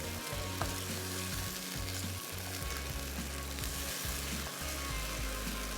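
Minced meat qeema frying with yogurt in a pan for stuffed capsicum, a steady loud sizzle with scraping stirs running throughout, no voices.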